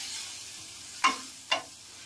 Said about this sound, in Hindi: हम इसको धीरे धीरे चलाते रहेंगे।